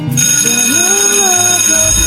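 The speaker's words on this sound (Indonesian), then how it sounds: "Bel istirahat pun telah berbunyi" A school bell for the break period rings loudly and continuously, a sustained metallic electric tone with steady overtones filling the whole moment, while a faint melodic voice drifts underneath.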